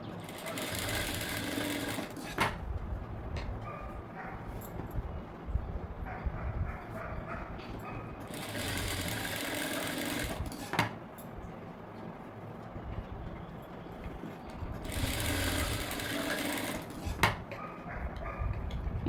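A sewing machine stitches a high-neck blouse in three separate bursts of rapid whirring, close and fairly quiet, with pauses between runs.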